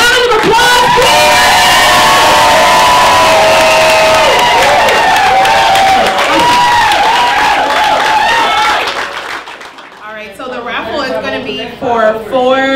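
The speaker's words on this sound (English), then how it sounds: "So let's one more big round of applause, please." Loud crowd at a school event applauding, cheering and whooping for several seconds, with children's shouts mixed in before the noise fades and voices take over.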